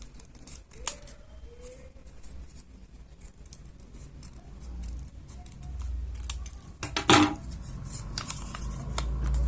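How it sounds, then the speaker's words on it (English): Scissors cut a circle out of a sheet of A4 paper, close and crisp, with intermittent snips and paper rustling as the sheet is turned. "Now this is one way to cut circles out."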